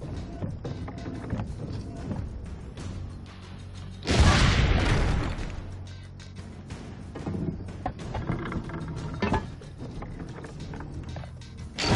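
A cannon in Assassin's Creed: Brotherhood, a video game, fires one loud, booming blast partway through, rising sharply above a busy background of clatter and motion before fading back down.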